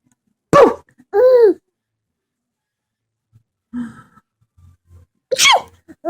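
A person sneezes sharply up close, then sighs with a drawn-out voiced breath, followed by soft quiet breaths and a second sharp sneeze near the end.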